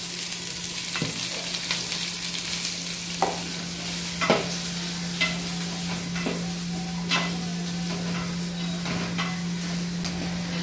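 Onions sizzle steadily in hot oil in a pan, a dense continuous frying hiss broken by repeated scrapes and taps of a stirring spoon, close and fairly loud with no voices.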